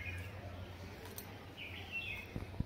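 Birdsong on a morning, with a few faint chirps and short calls rising over a steady low hum and quiet room background, ending with a couple of soft knocks.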